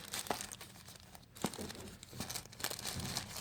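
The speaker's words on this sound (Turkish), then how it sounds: "Açalım arkadaşlar kullanım kılavuzumuzu." Crinkling and rustling paper as a Samsung Galaxy S8 user manual is unfolded, soft close-up crackles with a few sharper snaps, fairly quiet throughout.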